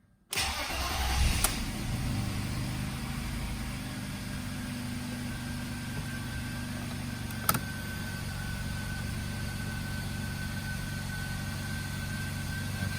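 A BMW E39 with an M54 engine cranks and fires, then settles into a steady, even idle that carries on close by, with a brief knock partway through.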